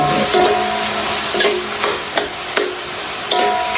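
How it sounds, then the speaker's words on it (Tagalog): Filipino-style spaghetti sauce sizzles and crackles as it browns in a hot pan, a steady frying hiss broken by occasional clinks and scrapes of stirring. "Medyo napiprito-prito na."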